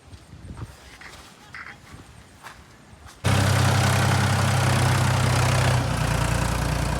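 A plough tractor engine rumbles at idle, starting abruptly partway through and then holding a loud, steady low drone to the end, after quieter outdoor ambience with faint knocks.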